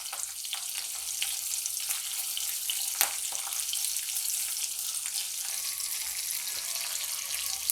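Chillies frying in hot oil over a medium gas flame for a carrot, radish and chilli mixed pickle, a steady dense sizzle running throughout with one brief sharp crackle partway.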